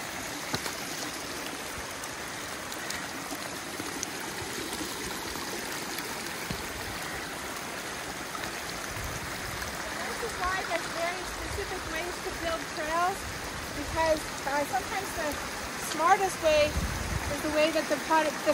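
A small stream and waterfall run across a wet forest trail at a Georgia state park during rain, giving a steady close rushing and trickling wash that swells slightly toward the end, with faint talk underneath.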